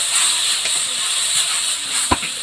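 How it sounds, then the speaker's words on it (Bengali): Ground spice paste with cumin and turmeric powder fries in a pan for crab curry, a steady loud sizzle and hiss throughout with a single sharp knock near the end. "এবার সব মশলাগুলোকে ভালো করে ভেজে নেব"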